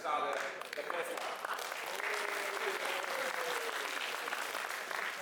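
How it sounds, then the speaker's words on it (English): Audience applause in a lecture hall for a student presenter at a session on AI, machine learning and the Internet of Things, a steady burst of clapping sustained through the whole stretch with faint crowd murmur. "give a big round of applause for Tam to start the first one"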